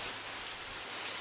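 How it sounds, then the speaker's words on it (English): Heavy rain pours steadily outdoors, a dense, even hiss of drops hitting surfaces close by, unbroken and without voices. "Jeez, look at that rain."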